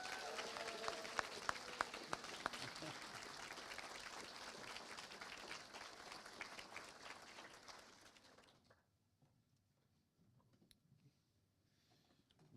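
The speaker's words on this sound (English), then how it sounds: "Ladies and gentlemen, can you give the mums a big round of applause," Wedding guests applauding the mothers at a reception in the Glasgow Science Centre, sustained crowd clapping for about eight seconds that then drops away to near silence.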